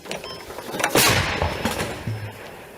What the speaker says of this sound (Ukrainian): Постріл. Постріл.